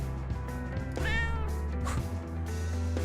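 Cat meowing in the Tokyo Dark video game: a drawn-out, wavering meow rises near the middle, then a shorter second meow follows, both heard close over a steady low game ambience with no talking.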